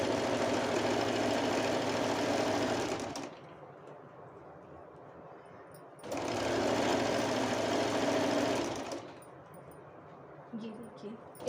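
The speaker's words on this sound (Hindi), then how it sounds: "डबल फोल्ड करते जाएंगे और स्टिचिंग करते जाएंगे" A sewing machine stitches double-folded piping onto an inner frock in two loud, steady runs with a short pause between them, and a voice speaks quietly in the gaps.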